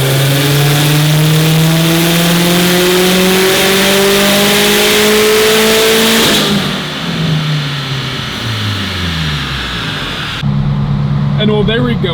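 A powerful tuned Subaru STI engine roars loud and close on a dyno, climbing steadily in pitch for several seconds before cutting back, winding down, and blipping again.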